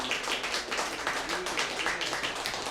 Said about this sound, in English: give me a round of applause if you guys feel me